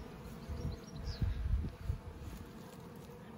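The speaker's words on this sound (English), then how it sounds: "There's just a few bees flying around the branch where they originally landed." Honeybees from a swarm buzz around a tree branch as the last stragglers head into a hive, a soft, uneven droning hum with a few louder passes close by, fairly faint overall.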